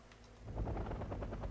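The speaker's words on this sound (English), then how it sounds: "we see over here all these autocannons chasing off these helicopters" Rapid autocannon bursts firing at helicopters in the Wargame: AirLand Battle video game, a steady run of repeated shots at moderate distance after a quieter opening, with no talk.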